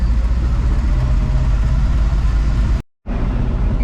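A 1980 Chevy C70 truck engine runs with a loud, close, low rumbling idle that cuts out for a moment near the end before resuming, with no talking.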